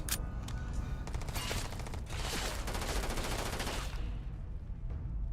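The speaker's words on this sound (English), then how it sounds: "Shotty gun." Shotgun fire in Starfield comes as a rapid, loud barrage of blasts with sharp cracks clustered over several seconds, then fading into quieter rumble at the end.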